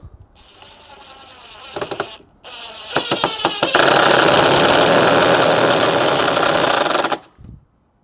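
A DeWalt brushless cordless drill whirs in short bursts, then runs steadily at high speed driving a screw without pre-drilling for several seconds before stopping abruptly, close and loud.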